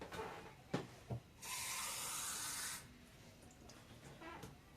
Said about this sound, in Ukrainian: вливаю сюди, і пів склянки звичайної води